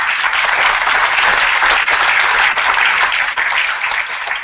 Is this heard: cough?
no